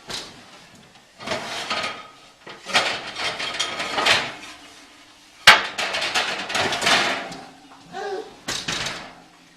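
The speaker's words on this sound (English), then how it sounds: "So we take our pizza stone, we put it on top of our peel" A pizza stone heated to about 500 degrees is pulled from the oven onto a peel, making hard clunks and one sharp knock close by while someone talks throughout.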